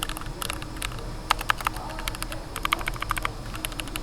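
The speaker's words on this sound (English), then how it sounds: "just clack the keys a little bit" Mechanical keyboard keys clack in quick, uneven bursts, crisp and close, with brief pauses between flurries of keystrokes.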